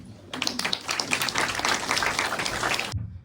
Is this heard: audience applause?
yes